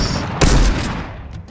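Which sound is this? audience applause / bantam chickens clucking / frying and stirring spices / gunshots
gunshots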